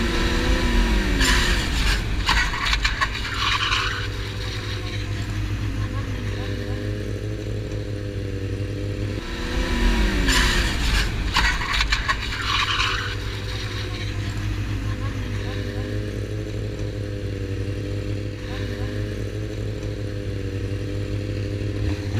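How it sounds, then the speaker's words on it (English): Motorcycle going into a high-speed wheelie that goes wrong, heard as a loud engine roar with a sudden rise and clatter, repeated twice. A voice talks over it. "High-speed wheelie gone wrong."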